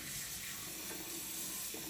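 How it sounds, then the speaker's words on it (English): Water runs steadily from a tap into the tank of a Dreo 6L smart humidifier, a faint, continuous rushing splash heard alone. "So I'm just filling this up with water."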